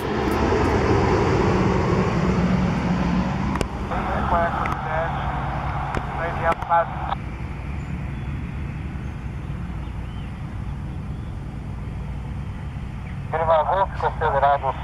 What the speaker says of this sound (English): This plane making an emergency landing after an engine failure.